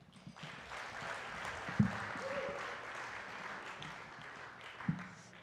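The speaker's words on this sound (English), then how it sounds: "Please give another round of applause for Mehrdad." Fundraising event audience claps for Mehrdad after his songs, a moderate, even patter of applause with a couple of sharper knocks and faint murmuring underneath.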